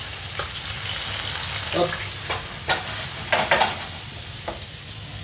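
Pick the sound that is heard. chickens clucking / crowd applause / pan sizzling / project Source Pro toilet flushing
pan sizzling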